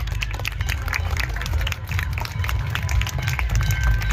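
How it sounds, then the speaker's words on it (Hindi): Crowd at an art competition during the Gurjar Mahotsav 2025 festival claps loudly and steadily, a dense continuous patter with low hum and murmur underneath. "एक बार अपने लिए जोरदार तालियां बजाइए"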